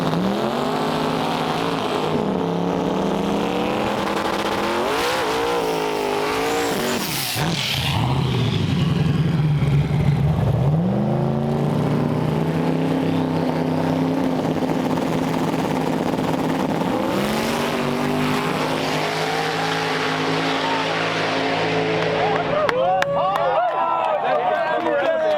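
Drag race cars launching side by side at Muncie Dragway in a Big End Banger final, engines roaring and rising in pitch through the run, with crowd noise and an announcer talking over the racket.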